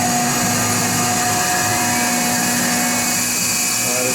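A stainless steel knife blade is ground on a power grinder, giving a steady, loud abrasive whine with constant droning tones throughout, close by and with no talk.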